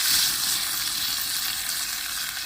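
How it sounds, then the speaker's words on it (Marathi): Ground spice paste fries in hot oil in a wok set on a wood-fired stove, making a steady, even sizzle that holds at a moderate level without speech. "कढईमध्ये तेल तेल गरम झालंय तर वाटण घालून घेऊया"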